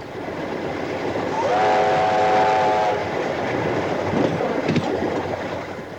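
Steam engine 3203, built in 1892, hauls a train past with a rumbling roll of wheels and a sustained whistle blast, followed by a few sharp chuffs and rattles, heard from a moderate distance.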